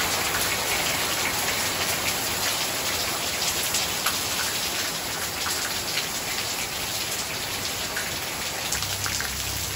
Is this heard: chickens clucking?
no